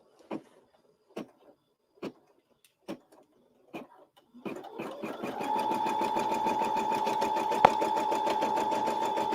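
An in-the-hoop embroidery machine: several separate mechanical taps at first, then a steady fast rhythmic stitching hum with a continuous tone, close and loud.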